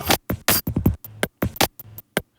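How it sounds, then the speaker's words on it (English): Disc golf basket chains struck several times with a frisbee, recorded close on a phone mic and arranged as a percussion loop: a quick series of bright metallic clinks and jangles in an irregular rhythm, with no talking. "we basically just had him hold an iPhone mic up to the chains for the disc golf, and he would hit it a few times with the frisbee"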